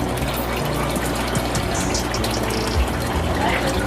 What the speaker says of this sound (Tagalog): Umaandar na yung tubig. Tapos automatic naman mag-gano'n.